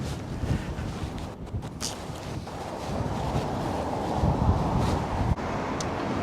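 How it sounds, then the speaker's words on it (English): Gusty wind blows through a historic stone arch in St Andrews, Scotland, rumbling and buffeting close to the microphone, with a few faint footsteps in the steady roar. "A wee bit windy as we go through the arch."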